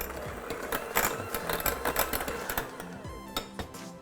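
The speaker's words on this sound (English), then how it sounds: "use a hand mixer to cream those together until they're smooth" A hand mixer whirs close by as it creams softened cream cheese and butter, a buzzing motor hum with rhythmic clattering pulses from the beaters knocking the bowl, loud at first and settling slightly by the end.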